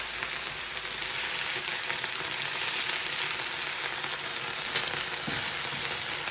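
Chicken and thinly sliced vegetables stir frying in a hot pan give a steady, loud, close sizzle with faint stirring clinks and no speech.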